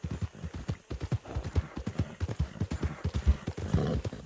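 Horse hooves clip-clop at a steady walking rhythm in the video game Red Dead Redemption 2, close and fairly clear, with occasional soft snorts mixed in.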